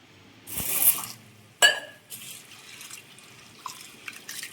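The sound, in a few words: washing soaked lentils in water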